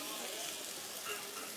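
Garlic sizzling in a hot pan with buffalo meat, a steady close hiss of frying that fills the brief moment without pause.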